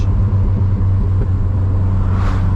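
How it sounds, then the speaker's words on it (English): An older Porsche car drives past nearby with a steady low engine rumble and a brief rise as it passes. "Oh, older Porsche."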